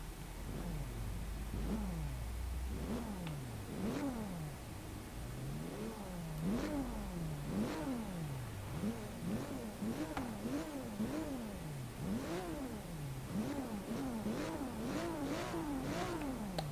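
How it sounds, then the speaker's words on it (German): A BMW inline six-cylinder engine in the Forza Horizon 3 racing game revs repeatedly, the pitch rising and falling in quick sweeps, moderately quiet and steady throughout with no talking. "Ist nur ein rein Sechszylinder, aber BMW macht geile Sounds."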